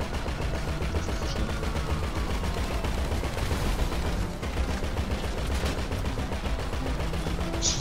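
Gunfire rattles through a Doomsday Heist Act 3 mission in GTA V Online on PS4: dense, unbroken bursts of rapid shots carry on the whole time over low rumbling game sound.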